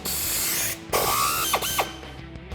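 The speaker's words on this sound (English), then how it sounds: "now we're gonna remove our sway bar end link here. It's a 15mm socket" A hand ratchet with a 15mm socket works loose the sway bar end link on a 1994-2004 Mustang, producing bursts of rapid clicking with short pauses and a few sharp metallic knocks, close by and with no talk.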